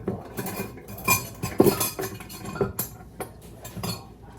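Metal measuring spoons clink and rattle against each other and a container while baking powder is measured out. The clatter comes in scattered bursts, close and fairly loud.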